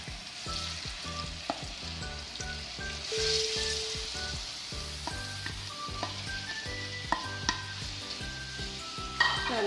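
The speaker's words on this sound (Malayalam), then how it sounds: "അത് നന്നായിട്ട് ചൂടായിട്ട് വരുമ്പോൾ നമ്മുടെ ഈ മസാല പുരട്ടി വെച്ചിട്ടുള്ള ചെമ്മീൻ ഇതിലോട്ടേക്ക് ആഡ് ചെയ്ത് കൊടുക്കാം" Marinated masala prawns sizzling in hot oil in a pan for a prawn biryani, a steady close crackle with frequent spatters and light stirring scrapes throughout.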